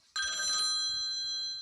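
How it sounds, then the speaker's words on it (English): A telephone bell rings loudly with an incoming call, one sustained bright ring close by with no talk over it. "I think I have a phone call coming in."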